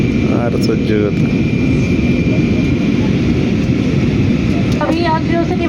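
Steady, loud cabin drone of an airplane in flight, heard from inside, a constant engine roar with a few faint voices and chimes above it.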